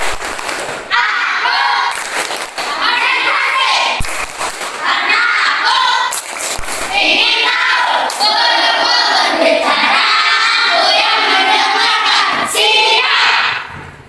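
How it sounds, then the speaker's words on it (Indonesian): A school class claps together in quick, patterned bursts of a concentration clapping routine with shouted chants, loud and crowded, sharp slaps repeating through the whole stretch. "Tepuk konsentrasi."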